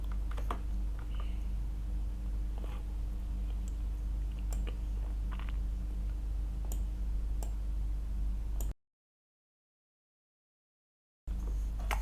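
Typing on a computer keyboard while deleting Java code: quiet, close key clicks and taps run steadily over a low hum, then stop in a brief silence before resuming.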